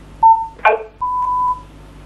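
Telephone line tones during a live Romanian TV call-in: a short steady beep, a brief rustling burst, then a longer steady tone, clear and close with no talk.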